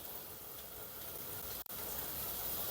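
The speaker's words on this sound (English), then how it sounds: "it instantly sizzles" Korean pork cutlets sizzle in hot vegetable oil, a steady dense hiss of frying, close and fairly quiet, broken only by a split-second dropout midway.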